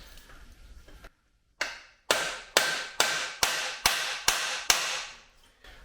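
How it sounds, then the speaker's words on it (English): Hammer whacking a stuck motorcycle swingarm bolt: a run of about eight sharp, loud metallic strikes in steady rhythm after a brief silence, close up, each blow ringing briefly before the next. "So I'm going to whack it back the other way and see if we actually have made any headway on this."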